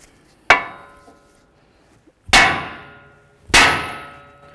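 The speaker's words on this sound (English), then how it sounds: "we're going to take our hammer and we're going to bonk right here on the knuckle" A hammer strikes the steel steering knuckle of a 2007-13 Nissan Altima to free the outer tie rod end, three loud, separate metallic clangs with ringing decay, spaced about two seconds apart in a quiet garage.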